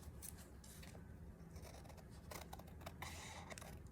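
Scissors cutting paper for a craft collage with vintage pink fairy images, faint repeated snips and crisp slicing at close range against a quiet background hiss.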